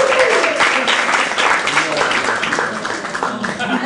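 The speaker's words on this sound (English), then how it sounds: "Ladies and gentlemen, start clapping it up for G." A comedy-room audience claps and cheers to welcome a stand-up comedian, a thick continuous wash of hands with scattered whoops and voices mixed in, loud and sustained.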